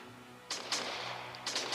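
Sniper rifle shots in the mobile shooter game Sniper Warrior, two sharp close cracks about a quarter second apart followed by another pair a second later, over a faint steady game hum.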